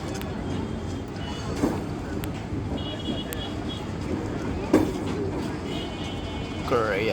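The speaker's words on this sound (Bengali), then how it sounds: "এই কতক্ষণ ধরে ট্রেন শেষ হয়" A long Bangladesh Railway train rolls past near the India–Bangladesh border, a steady broad rumble with occasional wheel clanks and a brief squeal toward the end, people talking close by over it.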